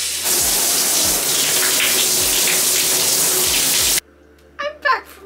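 Water running steadily in a home shower, a continuous broad hiss for about four seconds before cutting off abruptly, followed by quiet room tone and a couple of brief faint knocks.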